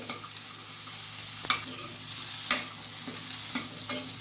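Vegetables fry in a pan while being stirred, a continuous close sizzle broken by sharp spoon-scrape clicks about once a second.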